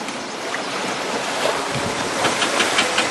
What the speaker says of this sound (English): And these are waves, see? Waves.